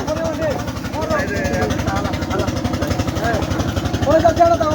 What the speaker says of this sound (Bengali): দেখেন আরেকটা জেলের নৌকা যাচ্ছে গুমতি নদী দিয়ে